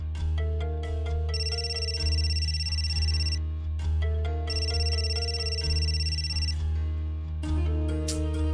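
A phone rings in a Marathi TV serial scene, a melodic ringtone with repeating tonal phrases looping steadily and loud over a musical background for the whole stretch, with no one speaking.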